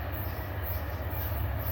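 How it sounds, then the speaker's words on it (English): A train pulls into a station with a steady low rumble of rolling cars and faint hiss, continuous and moderately distant, with no voices heard. "Train's coming in, and it doesn't have a special unit though."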